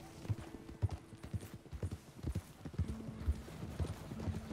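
Steady clip-clop of horse hooves at a trotting rhythm in the video game Red Dead Redemption 2, moderately close and fairly quiet, with no talking over it.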